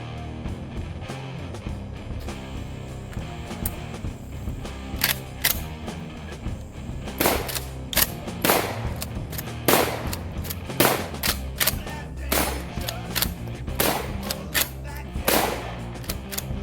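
A rifle fitted with a Shockwave Raptor forend firing repeatedly, heard as a series of sharp gunshot cracks at irregular intervals over a steady noisy background with no talking.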